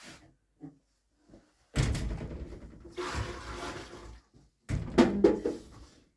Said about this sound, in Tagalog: ang last tubig mga kamoy is ibuhos ko dito sa malaking kasilyas